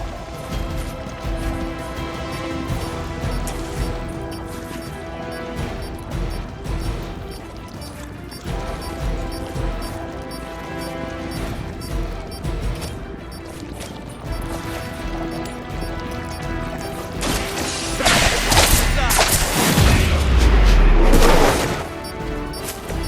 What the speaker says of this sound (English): Another of the crates is armed to detonate.